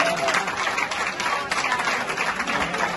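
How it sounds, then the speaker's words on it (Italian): A small audience at a university event in Naples gives a short burst of scattered applause, fairly close and moderately loud, with a voice speaking over the clapping. "me lo potete fare un piccolo applauso?"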